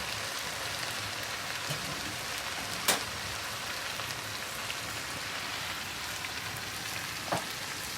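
A steady, quiet sizzling hiss of food frying outdoors on a Himalayan hike in Nepal, with a couple of sharp clicks standing out briefly.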